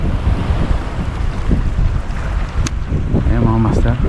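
Strong wind buffets the microphone in a constant, loud rumble while fishing from a boat, with water and boat noise beneath it and a brief voice near the end.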